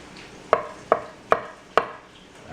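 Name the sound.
knife chopping avocado on a board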